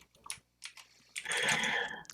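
Typing on a computer keyboard, a few quick clicks and then a denser burst of keystrokes close to the microphone, with no talk.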